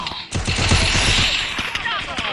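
Rapid automatic gunfire from the Free Fire battle-royale game rattles in a dense, loud burst lasting over a second, followed by lingering game effects under possible faint voice.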